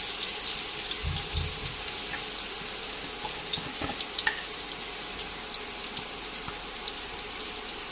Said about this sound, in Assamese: ইয়াত এতিয়া মই পিঁয়াজ দিলোঁ